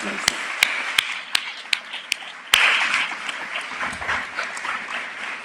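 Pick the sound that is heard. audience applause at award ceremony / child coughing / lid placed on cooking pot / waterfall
audience applause at award ceremony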